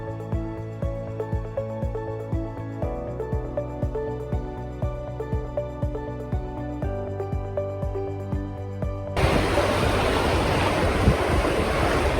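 Rhythmic music plays for most of the stretch, then cuts to a loud, steady rush of sea waves and wind on Tsilivi beach, Zakynthos, Greece for the last few seconds.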